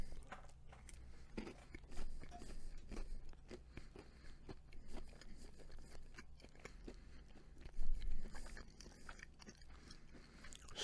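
Quiet close-up chewing of a walnut brownie from a Duncan Hines boxed mix, with soft, irregular crunches and moist mastication sounds and a slightly louder bite near the end.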